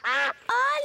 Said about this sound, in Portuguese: Olhem, são os patos.